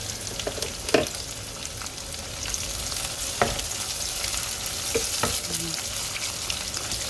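Chopped onions for mung bean stew sizzle steadily in hot oil, with a few sharp scrapes and knocks of a spoon stirring the pan at close range, no voices.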